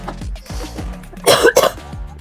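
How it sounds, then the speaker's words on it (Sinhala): Two harsh coughs burst out close together after eating very spicy Korean ramen, following some low, quiet throat sounds and breathing. "වතුර ඔක්කොම බීලා කැස්ස ගුත්තා"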